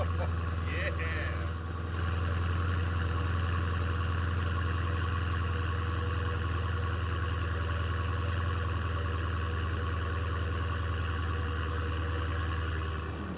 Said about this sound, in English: how about a little cold start for you guys? Do a little remote start.